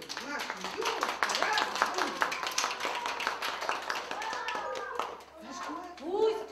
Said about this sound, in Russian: Мы в ладоши хлопать будем